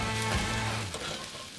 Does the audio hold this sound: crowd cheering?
no